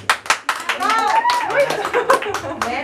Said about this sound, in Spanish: Bueno, será que mariachi se merece un aplauso.